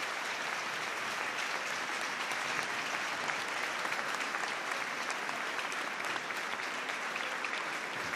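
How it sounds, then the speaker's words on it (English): A stadium crowd at a women's football match between Belgium and England applauds steadily for several seconds, a dense, even wash of clapping from many hands without breaks. "The crowd are applauding as Alex Greenwood is put on the stretcher."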